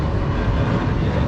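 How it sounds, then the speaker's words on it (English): Aeroplane passing overhead as a loud, steady broadband roar and rumble with no gaps, heavy in the low end, heard outdoors with no talking. "That there is what we call an aeroplane."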